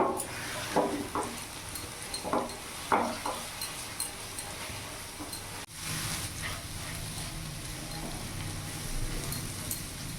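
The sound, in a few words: egg bhurji frying on full flame, stirred continuously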